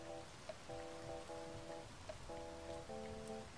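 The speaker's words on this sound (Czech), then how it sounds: "že ono mi sem prší, jo, takhle" Steady rain patters on a surface in the Space Engineers game, a constant soft hiss with occasional drops, while sustained synth music tones play over it throughout.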